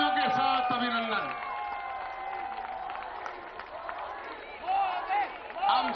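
A large crowd at a Dussehra celebration in Delhi applauds and cheers for the Prime Minister. Steady clapping and distant voices fill the space, with a voice talking over the noise and scattered whoops swelling near the end.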